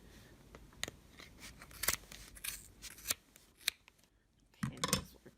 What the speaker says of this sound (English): It would probably be helpful if I had a little sharper scissors.